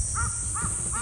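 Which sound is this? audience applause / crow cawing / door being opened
crow cawing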